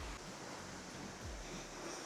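A West Coast waterfall rushes loudly, a steady broadband roar of falling water heard close up, with no voices.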